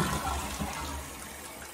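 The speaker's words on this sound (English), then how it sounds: "we're gonna give it a flush" A household toilet flushing just after its fill valve was replaced, a loud rushing surge of water close by that tapers into a softer draining swirl, with no talk.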